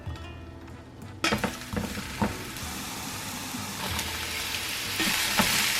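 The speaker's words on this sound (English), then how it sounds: "I don't know if you can hear me over the sizzling" Food sizzling loudly in a hot pan, a constant crackling hiss with a few clinks and stirring knocks near the start, no talking.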